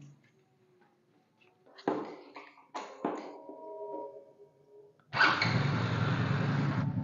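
A Honda Biz 110i motorcycle is switched on: a few clicks and short mechanical whirs, then the engine catches at about five seconds and settles into a steady, loud, close idle. No talking.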